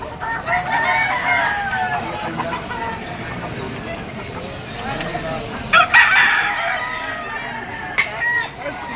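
A Sweater bloodline gamecock crows at a busy Malabon weekend pet market, its calls rising over a steady crowd murmur with other fowl clucking nearby and voices talking throughout.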